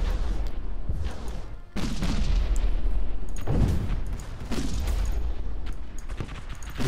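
Space battleship weapons fire in the video game StarDrive 2, a dense run of booming, explosive blasts that roll on continuously with several sharp surges, loud and close with no talk.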